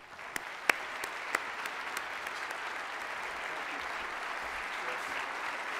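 An audience applauds President Barack Obama at the 2015 SelectUSA Investment Summit keynote, with steady, dense clapping that stays even throughout, a few sharper claps standing out near the start, and no voices over it.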